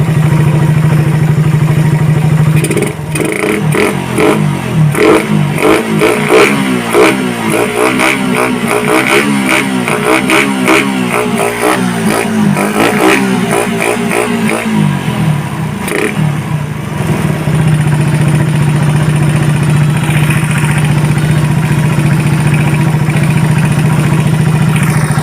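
Raider 150 motorcycle fitted with a Keihin carburettor, engine idling steadily then revved hard in repeated rising blips through the middle, settling back to a loud close idle; no talk.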